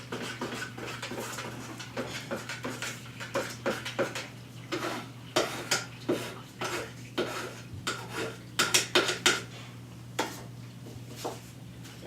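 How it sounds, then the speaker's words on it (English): Clinks and scrapes from a stick or tool stirring water-based PVA drywall primer in a container, irregular knocks and taps repeating close up over a steady low hum, with no one talking. "So we're going to stir it up a bit."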